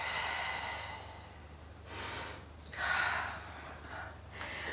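Close, audible breaths in and out during a Pilates leg-lowering exercise: several long, airy inhales and exhales rise and fall in a slow rhythm with no talk.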